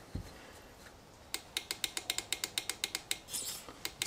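A fuel injector on a bench test clicks in a rapid, regular series of sharp, close ticks after a brief thump and a second of quiet, with no one speaking.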